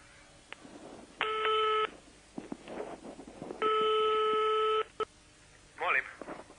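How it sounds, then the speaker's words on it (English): Push-button telephone dialing, with two long bursts of steady multi-tone DTMF beeps and short keypresses between them, close and clear, followed by a brief ringing or signal tone near the end. "Her first job is to check out Stancic's phone number"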